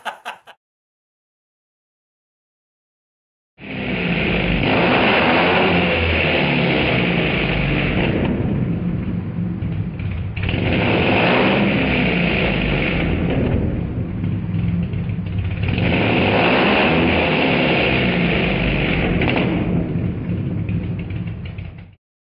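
A loud engine revs hard through a newly fitted exhaust in three long surges, each dipping briefly before roaring up again, close by.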